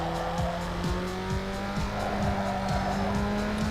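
Engine roar of a car racing in Need for Speed Underground 2 in a sponsored street race, loud and continuous with a steady engine tone and tire squeal, no talk.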